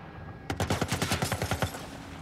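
Gunfire in The Last of Us Part 1 video game: a rapid burst of roughly a dozen sharp shots fired in quick succession, loud and close, lasting about a second before stopping abruptly.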